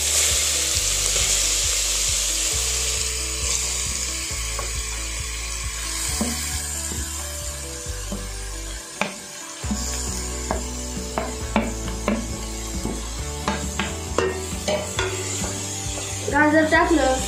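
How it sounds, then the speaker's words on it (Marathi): Grated carrots sizzle in melted ghee for carrot halwa and are stirred around the pan. The frying hiss runs continuously and close, with repeated scraping strokes and clinks over a low hum. "तूप थोडंसं वितळलं की मग आपण त्यात किसलेले गाजर टाकूयात."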